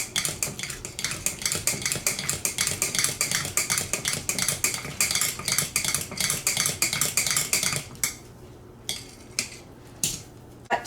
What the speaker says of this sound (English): we're gonna continue to mix really well